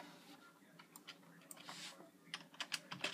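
Light typing on a computer keyboard, a quiet run of irregular key clicks that quickens toward the end, heard alone at low volume.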